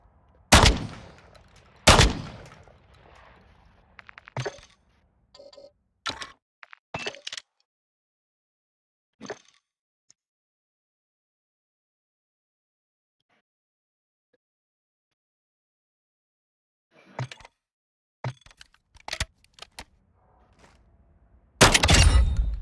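Gunfire in Call of Duty Modern Warfare 2: sharp, loud shots come in scattered bursts, some of them single cracks, with a long quiet gap in the middle and a heavy burst at the end.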